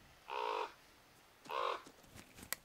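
A crow in the horror video game The Quarry caws twice in harsh, buzzy bursts, each about a third of a second long, a second apart, followed by a few faint clicks and a brief sharp tick.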